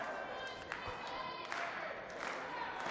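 Wrestling crowd inside St. Joseph's Gymnasium during a live pro-wrestling show, a steady roar of cheering and shouting with scattered claps and louder swells, continuous and moderately distant, under a commentator's voice.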